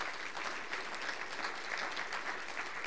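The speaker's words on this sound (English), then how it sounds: "Give them a hand clap." A church congregation claps steadily in dense, sustained applause, heard from within the room at a moderate level without pause.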